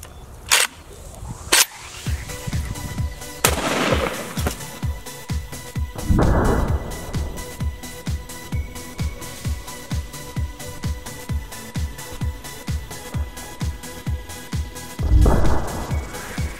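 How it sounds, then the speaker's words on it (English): AK-47 rifle shots fired at Fanta cans outdoors ring out as several loud, sharp cracks spaced seconds apart, each trailing into a brief echo. "So I decided to go ahead and shoot these with an AK-47, see what happens."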